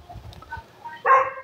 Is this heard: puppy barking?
yes